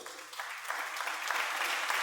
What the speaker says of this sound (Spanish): ¿Alguien puede dar un aplauso a Dios?